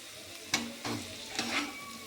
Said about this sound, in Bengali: আলুগুলোকে দিয়ে আমি আলুর সাথে মশলার সাথে একসাথে কষিয়ে নেবো একটু।